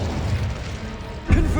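An Incendio fire spell in Hogwarts Legacy goes off as a short, dull whooshing blast near the end of a brief, noisy stretch, heard over a voice.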